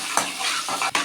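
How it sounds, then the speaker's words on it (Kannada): Three green chillies frying in a pan while being stirred, a brief burst of sizzling with scraping stir strokes, close and fairly loud. "ಒಂದು 3 ಹಸಿಮೆಣಸಿನ್ಕಾಯಿ, ಫ್ರೈ ಮಾಡಬೇಕು ನೀಟಾಗಿ."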